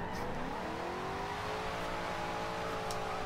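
A Shelby car drifting in a Fast and Furious video game, its engine revving in a steady, loud, close drone with a wavering pitch as it slides, with no talk.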